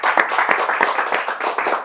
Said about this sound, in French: On applaudit Philippe Noël.